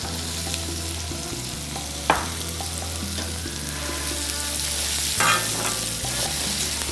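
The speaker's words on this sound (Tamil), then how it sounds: "வெங்காயம் நல்லா ஃப்ரை ஆயிடுச்சு இல்லையா?" Onions fry in a pan with a loud, constant sizzle, with occasional knocks and scrapes of a spoon stirring them, close up and with nobody speaking.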